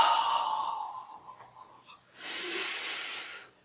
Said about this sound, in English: Try to emphasize your exhale.